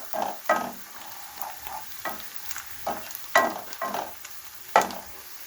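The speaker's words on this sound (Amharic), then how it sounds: "ሽንኩርት እንደዚህ ጥብስ ብሏል።" Onions fry in a pan for an Ethiopian shiro stew, a steady low sizzle broken by regular scraping stirs of a spoon every half second or so, close and clear with no talking.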